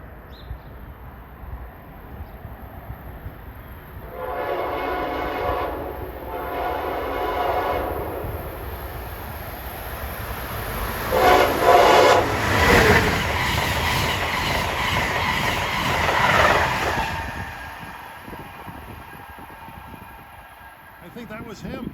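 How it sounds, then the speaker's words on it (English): Passenger train 84, running from Norfolk, Virginia to New York, rolls past Princeton Junction, New Jersey, blowing a long horn in two blasts followed by a sustained chord while the cars clatter by, with someone talking nearby. "approaching at 148 is train 84. En route from Norfolk,"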